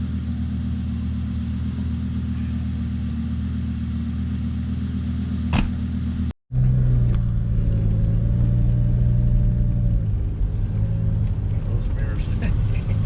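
A Lamborghini drives slowly through a residential neighborhood, its engine giving a steady low rumble throughout, with a brief dropout midway and the drone resuming louder and closer afterward; people talk faintly over it.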